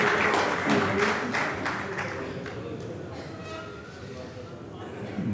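Loud, sustained audience applause fills a hall at a nationalist-themed gathering in Delhi's Constitution Club, welcoming speaker Manmohan Chandok. The dense clapping stays steady throughout and eases slightly toward the end.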